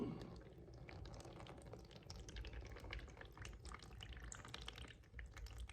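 Warm water holding germinating seeds is tipped out of a cup, giving a steady close pouring and splashing wash with a few drips throughout.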